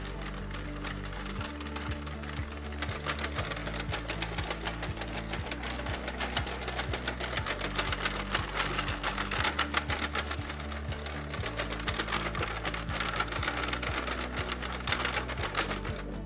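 A knitting machine works rounds of a neck warmer, its carriage clattering in a fast, steady mechanical rhythm with a low droning hum throughout, close and continuous with no talk.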